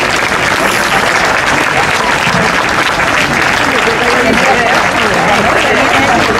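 A crowd at a town festival opening speech claps in sustained, dense applause that holds at an even, loud level throughout.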